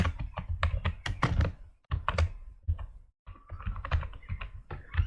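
Someone types on a computer keyboard while writing in WordPad, producing a dense run of close, loud key clicks and thunks with a short pause partway through. No voice is heard.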